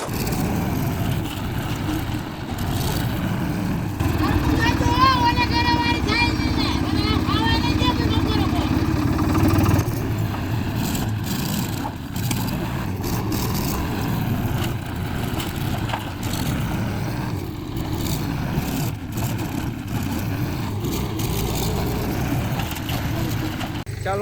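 A tractor engine rumbles low and steady while hauling a load of farm manure in a village field, continuing throughout with people talking over it.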